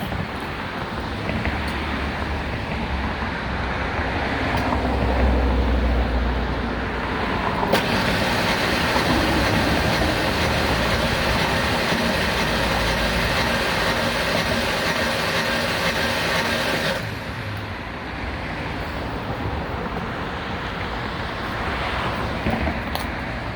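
A Ford Ranger with a 3.0 engine cranks over during a compression test: a steady, loud mechanical whir that runs for about ten seconds between quieter stretches of engine-bay noise, with no talking.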